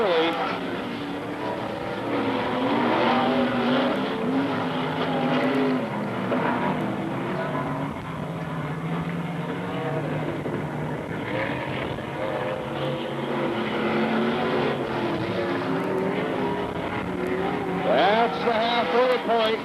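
Modified race cars roar around the Magic City Speedway dirt track in Billings, Montana, a steady, fairly distant engine drone with rising and falling passes, while an announcer talks over the sound.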